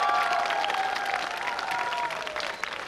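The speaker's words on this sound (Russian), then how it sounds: "Аплодисменты." A television quiz-show studio audience claps in a sustained round of applause, fairly loud and even, without any talking.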